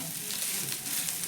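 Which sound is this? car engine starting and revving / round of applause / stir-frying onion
stir-frying onion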